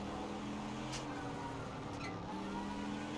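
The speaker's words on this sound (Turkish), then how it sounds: "Aynen süper Supercharger'ın o çığlık sesini duyabiliyoruz." Steady engine drone of a supercharged race car in Project Cars 3 with a constant supercharger whine layered over it, continuous and fairly loud, no voices.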